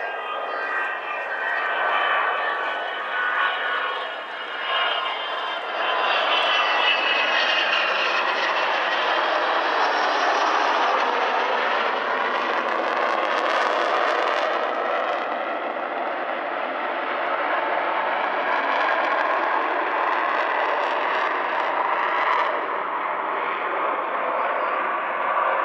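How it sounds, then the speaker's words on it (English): The Avro Vulcan XH558's Olympus jet engines roar at the Shuttleworth airshow, a loud, sustained, broad rumbling roar that swells and shifts as the bomber passes, with no talk. "you may be hearing that roar of these"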